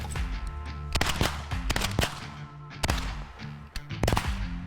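Shotgun shots while duck hunting over an Idaho cornfield, several sharp, loud blasts fired in quick clusters, some overlapping, with outdoor noise in between.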